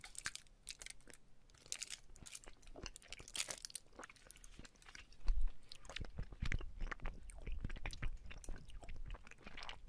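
Close, crisp crunching of Lindor chocolate with its shell and melting centre, irregular bites and chewing that grow louder and denser midway, with faint wrapper-like crinkles.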